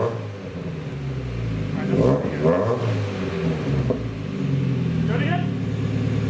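A Mazda Miata fitted with a big exhaust rumbles at idle and then revs up in a short, throaty burst that settles back down, close by, while people talk over it.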